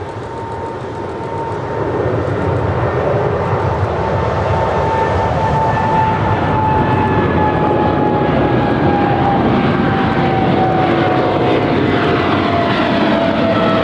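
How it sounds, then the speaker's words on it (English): A FedEx Boeing 777 rolls for takeoff on runway 25 left at LAX, its engine roar swelling loud and near within seconds, with a falling whine sliding through the thunder as it accelerates away. "We do have a FedEx 777 heading to Memphis, flight 9198. She is now rolling down 25 left."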